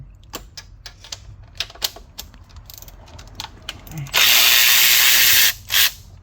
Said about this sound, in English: So now we gotta take, 8 bolts off the catalytic converter up top